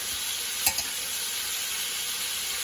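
Meat sautés in a pan on an electric stove for a Campanian ragu, giving a steady close sizzle with one brief clack of a utensil early on.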